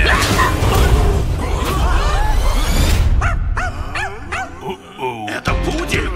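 A poodle in an animated wolf-themed film trailer yips and barks in a quick run of high, sharp calls, close and loud over busy background sound.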